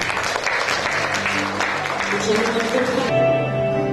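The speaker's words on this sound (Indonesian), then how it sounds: "Kita berikan tepuk tangan" Guests applaud during a church wedding blessing, a steady wash of clapping with voices over it that ends sharply after about three seconds, leaving a sustained musical tone.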